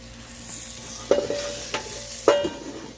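Corn on the cob cooks on a Blackstone griddle with a continuous close sizzle, broken by two sharp metallic scrapes of a spatula and a fainter one between them.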